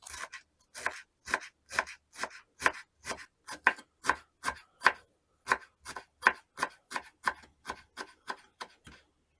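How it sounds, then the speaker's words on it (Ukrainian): Knife finely chopping dill on a board in a steady rhythm of about two dozen crisp, close strokes with short pauses, no talking. "До котлет я хочу додати ще кріп. Мілко нарізаю."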